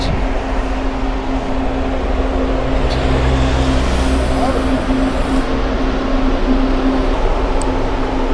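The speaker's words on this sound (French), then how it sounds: "le car arrive pour Saint-Claude" A coach bus pulls in for Saint-Claude, its steady engine rumble and low hum loud and continuous throughout, with people talking over it.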